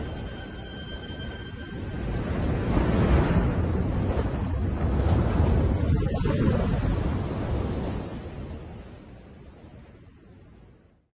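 Ocean waves surge as a steady, loud rushing wash that swells and then slowly recedes, with wind buffeting the microphone.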